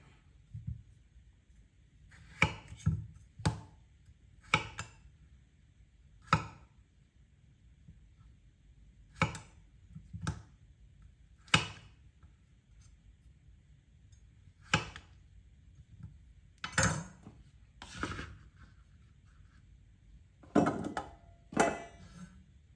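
A knife strikes a hard Kris Chef wooden cutting board in sharp, separate knocks, single and in quick pairs, with irregular pauses between, close and clear over near silence.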